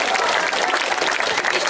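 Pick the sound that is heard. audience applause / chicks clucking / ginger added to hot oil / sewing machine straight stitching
audience applause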